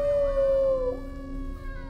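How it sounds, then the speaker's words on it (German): A dog howling at a wailing fire siren in a horror video game where the player is a dog, a loud falling tonal howl over the steady siren, close and clear without talk. "Wir jaulen die Sirene an."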